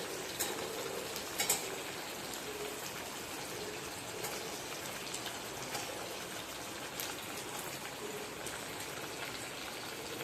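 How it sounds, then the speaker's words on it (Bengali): Neem leaves fry in leftover eggplant-frying oil with a faint, steady sizzle, close by but quiet, with a few small pops near the start. "ওই তেলেই আমি নিম পাতা ভাজছি"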